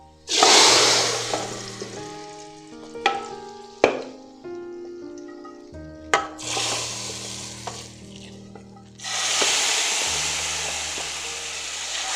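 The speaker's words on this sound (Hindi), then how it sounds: "अब ये तड़का हमारा तैयार है। अब ये लगा देंगे।" Loud sizzling bursts as hot oil tempering is poured into dal, crackling and hissing in several waves with clinks and scraping of utensils between them.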